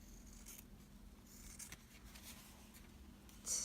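Scissors trim excess fabric from a handmade sewn journal, a run of soft, quiet snipping and rustling cuts at close range with no talk, ending in a louder rustle.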